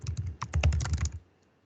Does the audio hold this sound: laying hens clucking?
no